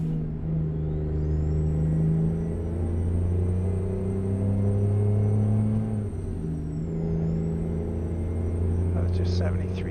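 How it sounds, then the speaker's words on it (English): Simulated Scania R truck in American Truck Simulator, a steady loud engine rumble with shifting tones and a whining high pitch, dipping briefly as it changes gear, driving on a race track. "this truck is a lot harder to drive than the Mack."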